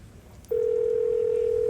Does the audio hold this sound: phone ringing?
yes